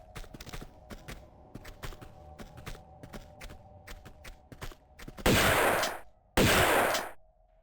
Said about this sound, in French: Il va tâter de mon fusil